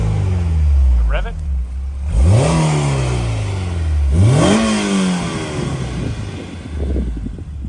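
A Honda S2000 engine fitted with a titanium twin loop exhaust revs twice in quick sharp rises, each climbing then falling back to idle, loud and close, with people talking around it.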